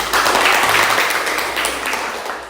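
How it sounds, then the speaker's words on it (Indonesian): A classroom of students gives a burst of applause for classmates, dense clapping that starts loud and slowly fades over a couple of seconds. "Tepuk tangan dulu untuk"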